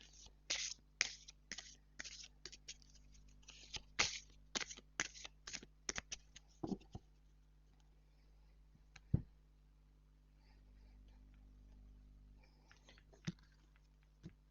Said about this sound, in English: Let me just give them a shuffle.